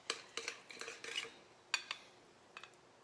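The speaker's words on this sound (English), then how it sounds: "you pull the dough out and you just stir it" Spoon stirring dough in a bowl, giving a quiet series of light scraping and clinking strokes in uneven bursts, close but faint.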